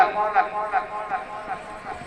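At a neza bazi tent-pegging event, a horse gallops in a steady rhythmic beat of hoofbeats that is partly masked by a loudspeaker voice announcing over a resonant PA.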